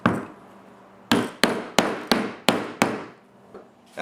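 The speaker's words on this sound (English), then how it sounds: "I like to finish them off with a little hammer" A small hammer taps staples flush into canvas on a wooden beehive quilt box, giving six sharp, close strikes in an irregular rhythm with faint room noise between them.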